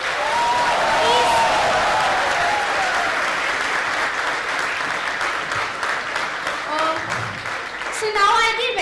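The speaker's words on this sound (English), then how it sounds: "Can we have a big round of applause?" Loud audience applause fills a college cultural evening hall, steady dense clapping throughout, with voices calling out over it and a brief spoken line near the end.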